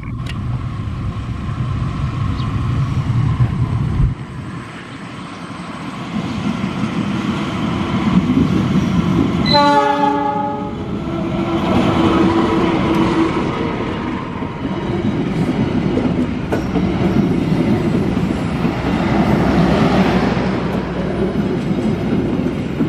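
The Cikuray passenger train rumbles past nearby at a manual level crossing with a steady roar and rhythmic wheel clatter, and a brief horn-like tone rises midway.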